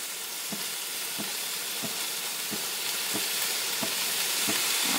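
Meat goes into a pan of translucent frying onions for a homemade kebab, raising a steady, close sizzle with regular light stirring scrapes about every half second.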